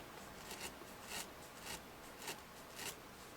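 Felting needle repeatedly jabbing into wool to tack a doll part in place, faint soft scratchy strokes in a slow irregular rhythm, about five distinct pokes, close and quiet.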